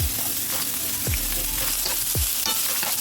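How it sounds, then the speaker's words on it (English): Chopped vegetables sauteing in organic olive oil in a pot give a steady, close sizzle, broken by a few low thumps of stirring. "Put all the veggies in the pot to saute for 2 to 3 minutes."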